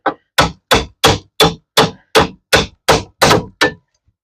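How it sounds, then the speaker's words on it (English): Hammer hitting a car leaf spring while restoring leaf springs on a first-generation F-body Camaro or Firebird, eleven sharp metallic blows in a steady, even rhythm, loud and close with no talking. "You'll take your hammer, and again, you're gonna hit the next leaf spring to the side."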